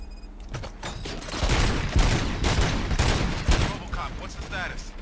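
Gunfire crackles in the video game RoboCop Rogue City, a dense burst of shots that swells and fades over about five seconds amid game ambience.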